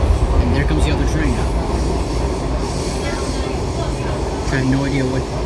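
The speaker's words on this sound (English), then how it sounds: "And there comes the other train." A Washington Metro train pulls into a station, rumbling loudly and continuously, with wheel squeal rising near the start and again near the end while a voice talks faintly under the noise.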